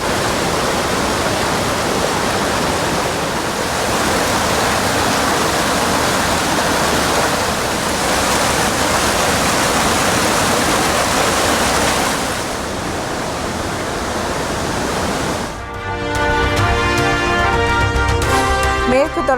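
Courtallam waterfall in the Western Ghats roars after heavy rain, a loud, dense and continuous rush of water that carries on without pause until another sound briefly cuts in near the end.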